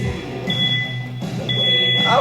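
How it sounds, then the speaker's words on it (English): A workout interval timer sounds high electronic beeps, two clear tones about a second apart, over a background voice. "You're going to hear beeps again here in a second, in 5 seconds."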